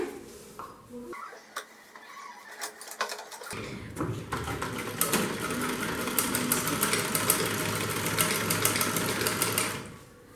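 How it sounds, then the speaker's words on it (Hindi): A sewing machine stitches handbag lining and buckram together: a close, fast mechanical chatter that starts in short bursts, then runs continuously and loudly for several seconds before stopping. "इसी तरीके से इसे सिल लेंगे"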